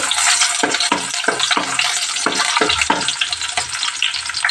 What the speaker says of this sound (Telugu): ఆనియన్ వేసేస్తాము కలుపుదామండి